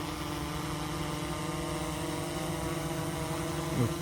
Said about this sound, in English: Accurate landing, correcting the aircraft position.